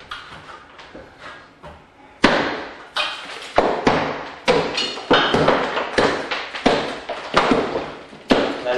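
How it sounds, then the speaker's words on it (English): A hammer strikes repeatedly to widen a hole, delivering a steady run of sharp, close knocks about every half second after a few lighter taps at the start. "take your hammer and just kind of get your bigger hole so we can find out where the edge of it is."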